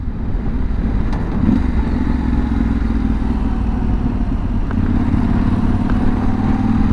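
A motorcycle climbs the mountain road to a ski resort on Slovakia's highest pass, its engine a loud, steady drone mixed with wind rush throughout, with no talking.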